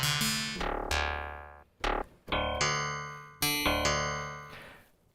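Plucked wavetable synth notes from Arturia Pigments 3, about six bright tones that strike sharply and decay quickly, some ringing briefly together, heard alone at a moderate volume.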